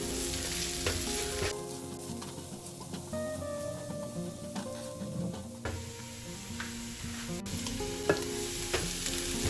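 Onion and chili frying in a pan and being stirred, a steady close sizzle broken by scraping and clinking of the utensil against the pan.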